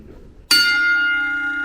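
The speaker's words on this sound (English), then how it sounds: "The bell does work. So we can give it a couple of rings and ring it once and ring it twice." A boxing ring bell at a training camp gives one sharp metallic strike that rings on with a long, bright, sustained tone, clear and close in a quiet room.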